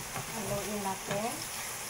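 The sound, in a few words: stirring century tuna with egg in pan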